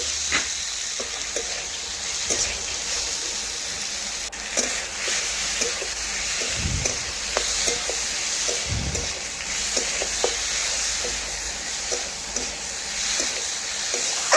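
Papaya pieces fry with spices in a pan, giving a steady hiss and sizzle with light scraping and clinks as they are stirred, close and continuous throughout.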